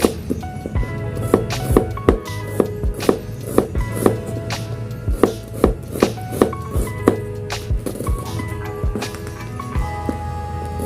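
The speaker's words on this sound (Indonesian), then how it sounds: "Pertama-tama iris bawang merah" A knife slicing shallots on a cutting board, making steady rhythmic taps and thuds close by with short pauses between runs, and no voice over the cutting.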